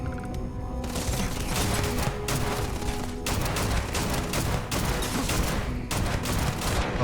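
Sustained, dense gunfire from the space game Starfield, a continuous loud fusillade of overlapping shots and bursts that carries on throughout with only brief dips, with no talking over it.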